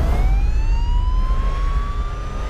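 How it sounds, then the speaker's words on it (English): A police car siren wails steadily throughout as officers chase a car that won't stop, its rising tone loud and continuous over heavy low road rumble. "Officers are initiating their lights and sirens, trying to get this guy to stop."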